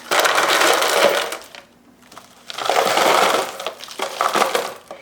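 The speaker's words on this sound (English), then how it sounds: "I'm gonna just put some chunks of ice in there." Chunks of ice are dropped into a candle mold, making loud, close clattering and crunching in two bursts with a brief quiet gap between them.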